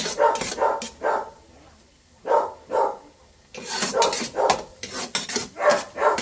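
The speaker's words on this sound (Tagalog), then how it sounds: "Ang ingay ng aso." A dog barks repeatedly in short bursts nearby, with brief pauses between groups of barks and faint kitchen clatter while spaghetti is being cooked.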